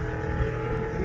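At an Easter car gathering in Barcaldine, a hot rod's engine runs steadily nearby, a continuous low rumbling drone that stays even throughout with no speech over it.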